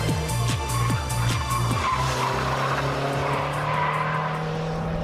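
A Lotus Esprit V8 Twin Turbo sliding its tail wide, tires squealing and skidding loudly over a sustained roaring engine note, close and continuous with no voices.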